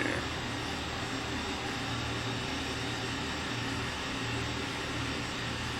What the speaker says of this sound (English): Let's go ahead and taxi right on over here and park the plane and get things shut down.